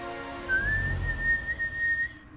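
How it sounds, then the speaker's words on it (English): A whistle tone in a PC Injustice 2 gameplay session, holding steady and clear for nearly two seconds, with a second, fainter tone seemingly sounding alongside it over a low rumble. "It sounds like two whistles at once."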